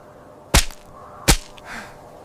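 Two sharp, loud whip cracks about three-quarters of a second apart in a scene of ancient Egyptian slave labor, each a crisp snap with a short tail, followed by a faint low rustle.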